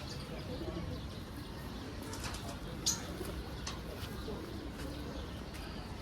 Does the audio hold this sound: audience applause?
no